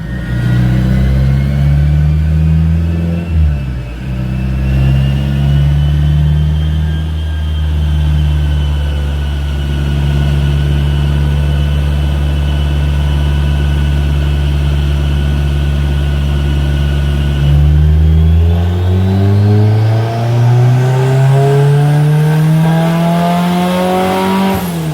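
A turbocharged 1992 Honda Civic Si hatchback with a B18C1 engine runs hard on a dyno, holding a loud, steady high-rpm drone before climbing sharply in pitch as it pulls into VTEC.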